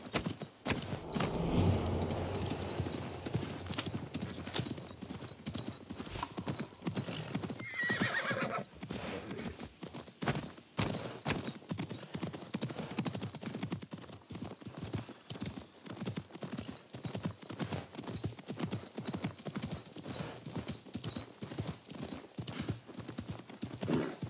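A horse in the game Assassin's Creed Mirage, with a long, steady run of clip-clopping hooves and neighing or whinnying near the start, fairly close and clear, with no talk over it.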